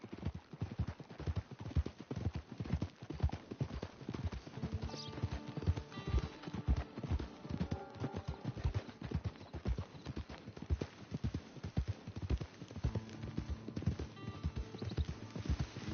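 Several horses walking along a trail toward a camp, hooves clip-clopping in a steady, close, rhythmic beat, with an occasional whinny and faint voices now and then.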